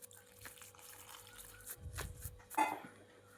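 Coconut water squeezed from leftover grated coconut pulp splashes into a Kerala prawn, raw mango and drumstick curry, a short pouring burst after quieter kitchen noise.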